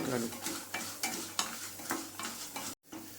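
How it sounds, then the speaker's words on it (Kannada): Urad dal frying in a pan sizzles steadily while a spoon stirs and scrapes it in repeated strokes, close and clear, with a brief silent cut near the end. "ಮತ್ತು 1 ಟೀ ಸ್ಪೂನಷ್ಟು ಉದ್ದಿನಬೇಳೆ ಇಷ್ಟು ಹಾಕ್ಕೊಂಡು ಚೆನ್ನಾಗಿ ಹುರ್ಕೊಳ್ಳೋಣ."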